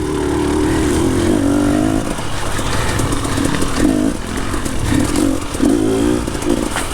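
A four-stroke enduro motorcycle revs on a hard enduro trail, its engine droning loud and close with repeated throttle rises and falls and rattling clatter from the terrain, running continuously.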